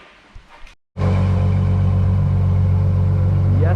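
A Ferrari's engine catches and settles into a loud, steady idle with a deep, constant rumble close by, following a brief moment of quiet after some faint handling noises.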